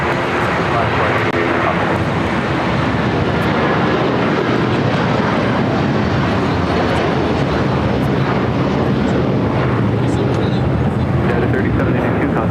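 Airliner taking off from runway 25 right at LAX, a loud broadband engine roar that holds steady throughout, with radio voices faintly under it.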